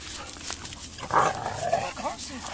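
Dogs growl and bark in rough play, a few short snarling bursts up close, with someone talking over them.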